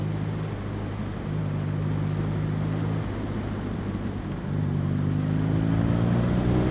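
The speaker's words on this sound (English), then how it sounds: "the exhaust sounds spectacular on this bike" A 2016 BMW R nineT motorcycle engine drones while riding, its exhaust note dipping and rising between gears over steady wind rush.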